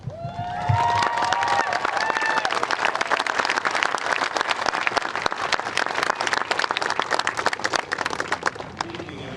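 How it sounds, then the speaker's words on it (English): At the U.S. Women's Open golf playoff, an audience gives sustained, dense applause with scattered cheers. An announcer's voice is briefly audible at the start before the steady clapping fills the rest. "Let's give a round of applause for these fantastic players."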